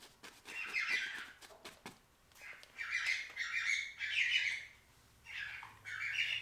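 Birds squawking and chirping loudly outdoors in bursts, a noisy flock calling repeatedly over several seconds with brief lulls between outbursts.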